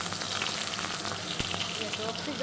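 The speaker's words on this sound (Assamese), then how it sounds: "অকণমান তেলত মই মাছটো আকৌ অকণমান গৰম কৰি লওঁ" Fish that was fried the day before and kept in the fridge is reheated in a little oil, giving a steady close sizzle and crackle throughout, with faint talk in the background.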